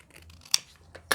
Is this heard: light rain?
no